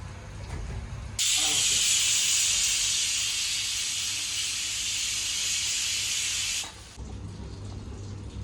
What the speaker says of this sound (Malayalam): കുക്കറിലിട്ടിട്ട് 2 വിസിലടിക്കട്ടോ